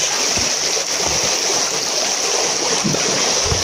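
Steady rushing, bubbling hiss of water with a faint sizzle as a hot knife blade from a makeshift forge is quenched, continuous and close, with no voices.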